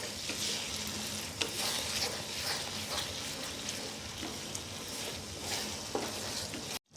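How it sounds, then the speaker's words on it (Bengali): Onion and tomato paste masala stir-fried in a pan, giving a dense, even sizzle with soft scraping of a spoon throughout, close and fairly loud, with no voices. "এবার আমি মশলাটাকে ভালো করে কষিয়ে নেব।"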